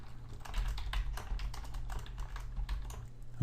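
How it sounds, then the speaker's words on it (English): Fingers type steadily on a computer keyboard, a close, continuous patter of quick key clicks with no voices. "So I'm going to type in some bullet points here."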